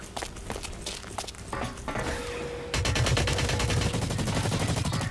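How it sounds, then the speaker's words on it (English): Rapid automatic gunfire from the shooter game Blacklight Retribution starts as scattered bursts, then becomes a loud, sustained stream of shots with dense rhythmic cracks in the second half, close and intense. "I'm getting shot at."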